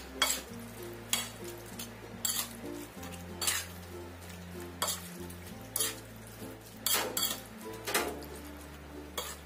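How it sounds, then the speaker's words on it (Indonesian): A seasoning mixture with vegetable oil is stirred in a bowl, giving soft, rhythmic scraping strokes repeated every second or so, quiet and close against a low steady background hum, with no talking. "Kita aduk sampai tercampur rata."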